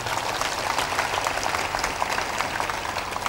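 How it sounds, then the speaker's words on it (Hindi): Audience at a satsang gathering clapping together in a steady, dense patter of applause, moderately loud and even throughout, with no talking over it. "ताली बजा के अभिनंदन।"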